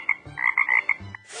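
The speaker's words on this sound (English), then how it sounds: "Frog." Frog croaking, a run of several quick, bright, rhythmic croaks in close succession, loud and near, with a short low grunt at the end and no talking.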